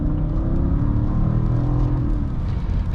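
The V8 engine of a 2012 Mercedes-Benz S550 under way, a steady low rumbling hum heard from inside the car, smooth and constant with a slight rise in pitch.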